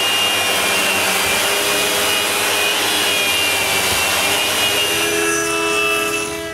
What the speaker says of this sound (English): The last thing to do on the door is to give it a final sanding.